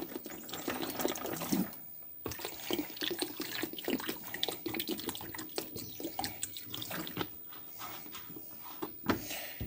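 Tap water pours into small basins being filled to soak cracked fruit seeds for sowing, a soft, steady splashing stream with slight gurgles that keeps running throughout at low volume, with no talking.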